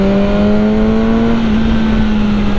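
A 2018 BMW S1000R motorcycle engine held at its 9000 rpm limiter, a loud steady high-pitched drone with strong harmonics that stays level throughout, close up and alone.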